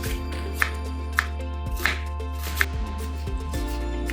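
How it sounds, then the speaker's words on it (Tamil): A knife chops onion finely on a board, with light, evenly spaced taps about twice a second, set against steady background music. "இப்போ நம்ம வெங்காயத்தை நல்லா ஃபைனாக சாப் பண்ணியாச்சு."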